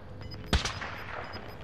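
A single sharp sniper rifle shot cracks loudly in a video game, a brief punchy report over steady background game ambience.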